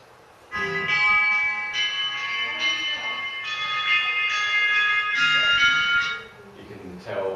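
Clear chimes play a minor-key melody for about six seconds, ringing steadily with overlapping tones before fading out.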